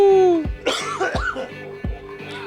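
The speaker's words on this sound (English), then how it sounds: "That was not a coronavirus cough." A person coughs several times in quick succession, loud and close, with harsh bursts in a steady rhythm over faint background noise.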